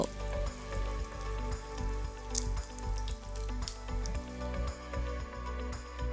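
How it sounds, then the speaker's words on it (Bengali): Peshawari meat kebabs fry in a batch in hot oil with a continuous, close crackling sizzle. Pulsing rhythmic thumps run underneath, and a few sharper pops cut through. "এই আঁচে আমি এক এক পাশ মিনিট খানেক করে ভেজে নিচ্ছি"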